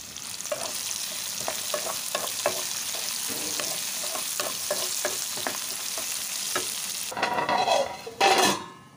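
Onions and garlic fry in oil in a pan, with a continuous sizzle broken by regular spatula stirring taps, and a louder scraping and clatter of the pan near the end.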